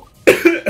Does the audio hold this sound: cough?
yes